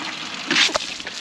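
A garden hose flushes water through the cooling system of a 2022 Kawasaki Ultra 310 jet ski, a close, continuous hiss of spraying water with a short gush and spurts partway through.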